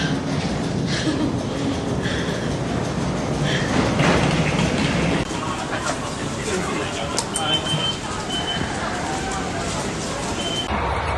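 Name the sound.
train ride to New Chitose Airport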